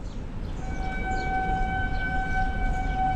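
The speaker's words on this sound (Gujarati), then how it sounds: "હા જો રેલગાડીનો અવાજ આવ્યો" A passing train gives a steady, sustained horn-like tone over a low rumble for about three seconds, fairly close, with no talking.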